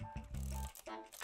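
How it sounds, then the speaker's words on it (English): A Pentax 6x7 medium-format film camera is wound and its shutter fired, giving a short ratcheting wind followed by a mechanical clack, close and isolated with no talking. "Wind the shutter fully now and fire the shutter."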